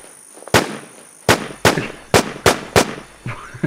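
Gunfire in the survival video game The War Z, seven sharp separate shots spaced irregularly over a few seconds, loud and close against quiet background.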